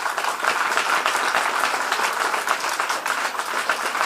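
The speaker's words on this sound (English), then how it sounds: "A big round of applause for each one of them." An assembled crowd at a school investiture ceremony applauds for students, a steady, even wash of many hands clapping at moderate distance, continuous from start to finish with no speech over it.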